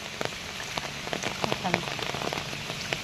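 Heavy rain falls on a flooded road, a dense, steady close patter of drops splashing into standing water and hard surfaces, with no voices.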